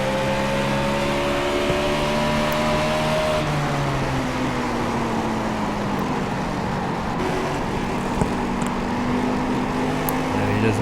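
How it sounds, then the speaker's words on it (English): A race car engine at New Hampshire revs continuously and loudly, a dense mechanical drone whose pitch sags and then holds as the driver works the RPMs. Other engine noise sits underneath and no one speaks. "you can hear Daniel Murphy playing with the engine, trying to get the RPMs up"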